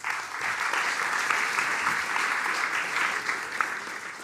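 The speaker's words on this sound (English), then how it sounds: "Please give her a warm applause." An audience gives warm applause as a guest, a program director, comes on stage at a graphic design event, steady dense clapping sustained for about four seconds with no talk over it.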